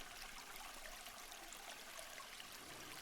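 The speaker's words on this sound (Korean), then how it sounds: "물소리가 들릴 텐데요." Water flowing in a forest stream, a steady, soft broadband rush and trickle that stays even and fairly distant, heard alone with no voices.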